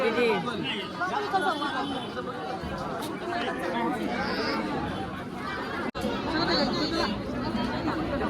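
A dense Sunday crowd at Jejuri temple fills the air with continuous overlapping chatter and babble, steady and close all around.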